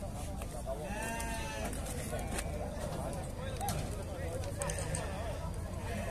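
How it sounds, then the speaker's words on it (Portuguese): Several goats bleat at intervals amid a busy outdoor sheep and goat market crowd in Dois Riachos, Alagoas, with people talking throughout and occasional hoof clatter nearby. "As cabras lindas isso aqui."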